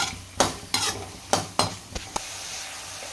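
Tomatoes and turmeric being stirred in a cooking pan for bisi bele bath, heard as a series of loud scraping, sizzling strokes about every half second before the sizzle settles to a steady low hiss.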